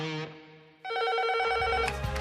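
A telephone rings with a bright electronic warble, a short burst followed by a longer sustained ring, close and loud, in a small epoxy flooring contractor's workplace.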